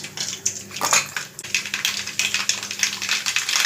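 Mustard seeds splutter and pop in hot oil in a pan on the stove, a dense, continuous crackle of sharp little snaps with no one speaking.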